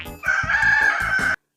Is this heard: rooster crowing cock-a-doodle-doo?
yes